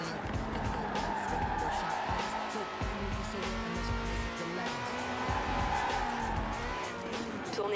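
An Alfa Romeo 8C Competizione in Forza Horizon 4 drives hard with a loud, steady engine roar, shifting pitch as it accelerates, with tire squeal and skidding mixed in throughout.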